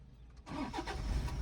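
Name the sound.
diesel car engine starting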